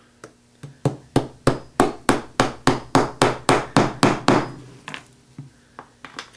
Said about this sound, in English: a couple of taps from a hammer embeds it flush with the surface